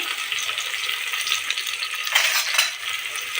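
Chopped onion sizzles in hot oil with garlic in a pan, a continuous close frying hiss that swells briefly in two louder bursts near the end, with light stirring.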